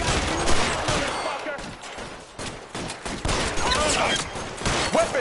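Rapid gunfire fills a shootout in the video game L.A. Noire, with dense overlapping volleys of shots cracking loudly and almost continuously, pausing briefly before more bursts.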